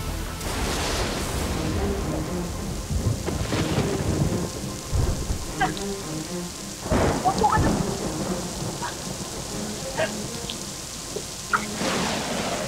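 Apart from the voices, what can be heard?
rain falling with thunder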